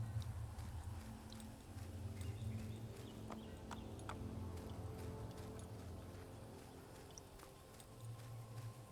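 Horse hooves clip-clop at a steady walking pace in Assassin's Creed, a soft rhythmic clatter of repeated hoof strikes continuing throughout against a faint ambient backdrop.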